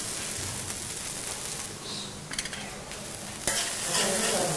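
Idli pieces fried with pepper in a pan, a steady loud sizzle with scraping stirring strokes passing through it at close range, no voices.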